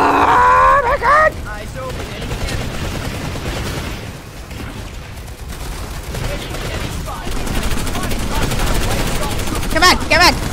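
Gunfire from a PS2 video game: bursts of rapid automatic fire and single shots go off through the clip, fairly loud and mixed with game sound effects, while excited players shout over the action.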